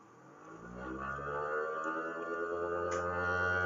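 An engine on an inertia dyno climbs steadily under full throttle toward 11,000 RPM, a rising whining drone that grows louder and holds near the top, heard alone and close.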